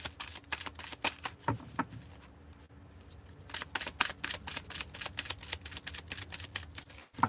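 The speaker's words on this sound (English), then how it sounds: "Some cards, they shuffle better than others." A deck of numerology cards is shuffled by hand in quick, crisp riffling bursts with a short pause in the middle, close and fairly quiet.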